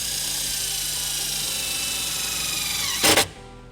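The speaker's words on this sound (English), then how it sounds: "using the included self-tapping screw, we're going to go ahead and ground our white wire to this sheet metal right here." A power drill whines at a steady high pitch, close and loud, then slows as it drives a self-tapping screw into sheet metal on a 2018 Nissan Murano, ending with a brief harsh burst as it seats.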